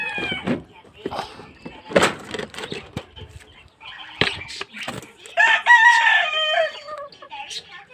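A rooster crows amid frequent talk, with a drawn-out crow rising clearly near the end over other voices and background clatter.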